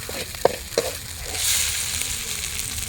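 Tomatoes for rabbit pepper curry hit a hot frying pan with a couple of sharp knocks, followed by a rising, close sizzle and hiss of frying.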